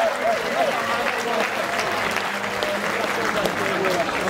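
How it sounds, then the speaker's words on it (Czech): Crowd applause for fighters at a street fight event, a steady, fairly loud clapping wash with murmuring voices and faint tonal sounds mixed in. "Oba dva borce samozřejmě odměníme potleskem."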